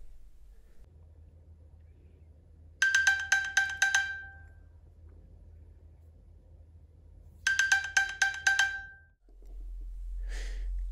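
Two bursts of a bright, rapid ringing iPhone locator ping, triggered from an Apple Watch, sound a few seconds apart over a quiet low hum, followed by a brief soft tone near the end.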